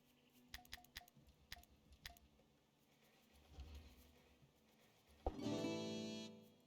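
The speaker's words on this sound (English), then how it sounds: "Ooh, a hailstorm." Hailstorm in the medieval colony-building game Going Medieval: a few sharp ticks and taps early on, then a sudden loud burst into a dense, sustained patter of hail. No voices.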